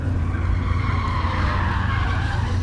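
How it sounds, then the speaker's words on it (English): Cars drift at the SEMA 2016 show, tires skidding and squealing in a loud, sustained screech over roaring engines, close and continuous with no talk. "Not sure if you can hear me over the drifting cars"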